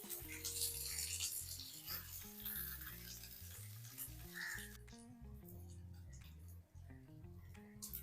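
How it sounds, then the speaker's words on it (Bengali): Stuffed flour-dough bread rolls fry in oil in a pan, with a continuous sizzle under intermittent clinks and scrapes as they are turned over and browned, close and fairly loud throughout. "এবার আমি উল্টে পাল্টে লাল লাল করে ভেজে নিচ্ছি"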